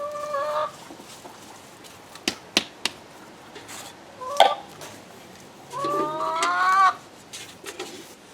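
A broody chicken in a backyard coop gives scattered clucks and a few drawn-out grumbling calls, moderately close, with brief knocks and clatter in between.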